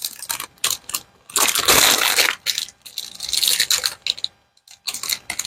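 A sheet of plastic packaging is handled and crumpled up close, giving loud bursts of crackling and crinkling separated by brief pauses.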